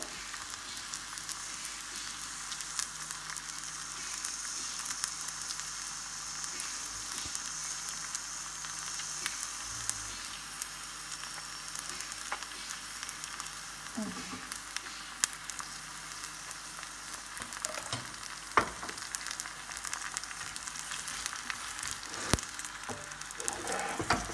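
Onion and garlic frying in a pan for a beef and green pea dish give a soft, continuous sizzle with scattered small clicks and ticks, close by and fairly quiet, with no talking.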